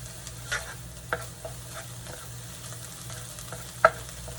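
A high-protein keto breakfast scramble cooks in a pan over raised heat, giving a soft steady sizzle with a few spatula scrapes and one sharp clink near the end, close by, with no talking.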